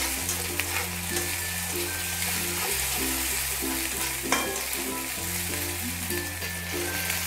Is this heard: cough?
no